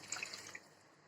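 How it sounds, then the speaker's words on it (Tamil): Water is poured over soaked basmati rice in a pot for kuska, a soft, steady splashing and trickling that is faint and heard alone, easing off partway through. "இதுக்கு இப்போ தண்ணி சேர்த்துக்கலாம்."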